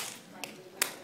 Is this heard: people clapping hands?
yes